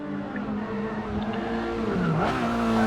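Honda S2000 racing engine at Mount Panorama in Forza 6, a steady high-pitched drone that dips briefly as the car shifts or brakes, with a short tire squeal, loud and continuous.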